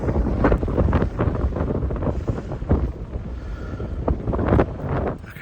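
Strong wind blowing outdoors during a walk with a guide dog in training, a loud gusting roar buffeting the microphone continuously, rising and falling in waves with no speech.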